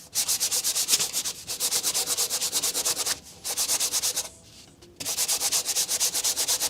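Rapid rhythmic sanding strokes, loud and close, running in bursts with two brief pauses before the back-and-forth rasping resumes.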